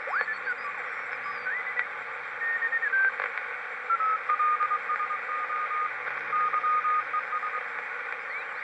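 A weak ham radio station on the 40 meter band comes through a Heathkit HR-10B receiver as faint wavering tones and chirps buried in steady static hiss.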